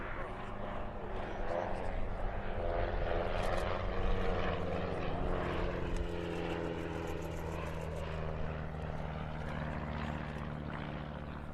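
An airplane flying inverted at an air show, a continuous propeller engine drone with a slowly shifting pitch, fairly close and steady, while people talk over it.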